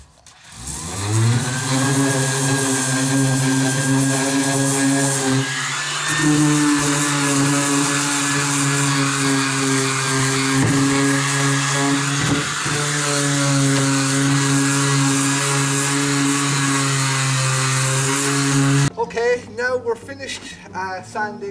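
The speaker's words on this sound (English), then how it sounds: "It saves on the elbow grease when you're sanding it down." An electric power sander works over a wooden dresser being prepared for paint, a loud, steady motor whine with sustained high grinding that runs continuously before cutting off near the end.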